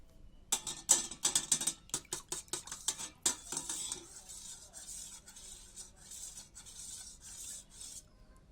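A spoon stirs Rooh Afza into sweetened milk in a glass, with a quick run of bright clinks against the sides, then softer, steady swirling and scraping.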